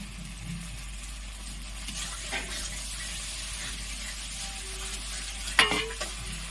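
Fried onions stirred into a sizzling rui fish korma in a pan: a steady sizzle under scraping stir strokes, with a sharper clatter near the end.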